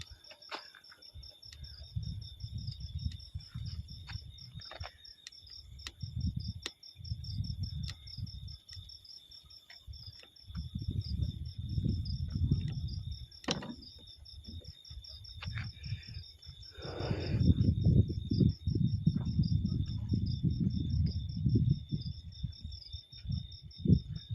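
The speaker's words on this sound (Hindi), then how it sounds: "ये देखो कितने कीड़े हैं ऊपर" Steady chirping of many crickets or similar insects clustered on a ceiling indoors, a continuous high trill running through the whole stretch over low rumbling movement noise.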